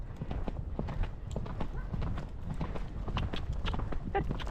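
A horse canters along a path, its hooves striking in a quick, steady three-beat rhythm close by, with soft rustling and a person speaking now and then in the background.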